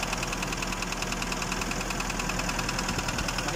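Nissan Urvan NV350 engine with about 45k km idles with a steady mechanical clatter and suspected injector knocking, a constant dense drone heard up close.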